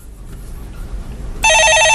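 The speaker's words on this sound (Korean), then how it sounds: "예, 전화 받아보겠습니다." A telephone begins ringing abruptly in a broadcast studio, a loud, steady electronic trill with bright tonal pulses that cuts in after a low background hum.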